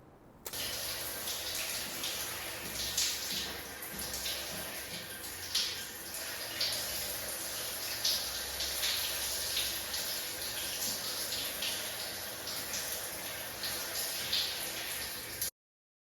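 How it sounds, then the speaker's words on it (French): A shower runs steadily, a dense hiss of falling water on a surface that holds nearly level for about fifteen seconds, with soft splashing variations and no talk. "La première chose que je vais faire ici, c'est prendre une bonne douche."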